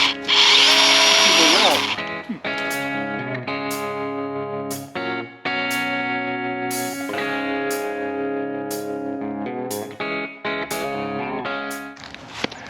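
A power saw cuts through thick oak branches outdoors, a loud continuous motor whine that bogs and rises in pitch as it works through the wood, near and sustained with short pauses.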